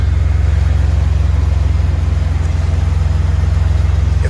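A 2020 Ford F150 with the 3.5 EcoBoost idles through an 8-inch round AFE muffler, a loud, deep, steady exhaust drone with a fine pulsing rhythm and no voices.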